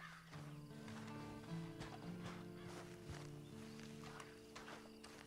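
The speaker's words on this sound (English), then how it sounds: "And you better get on this horse." Horse hooves clip-clopping in the Red Dead Redemption 2 video game, an uneven walking beat of hoof falls set against a sustained musical drone and ambient game sound, moderately quiet throughout.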